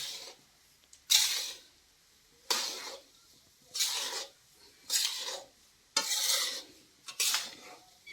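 A pan of adadiya, the Gujarati urad-flour sweet, is stirred in bursts, about six scraping strokes spaced a second or so apart with quiet between, close and moderately loud with no talk.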